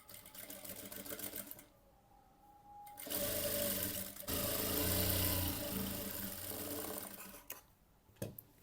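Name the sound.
sewing machine stitching blouse fabric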